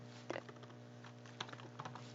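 Quick light keystrokes on a computer keyboard, a few clustered taps and clicks at an even, casual pace, faint and close, over a low steady hum with no voices.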